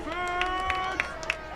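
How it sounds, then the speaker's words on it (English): A high school football crowd in Arlington, Texas, rising and clapping to urge the defense on, with sharp scattered claps at regular intervals over a sustained tonal hum and crowd murmur. "Colt faithful rising to their feet, some of them clapping, encouraging the defense to get a stop here"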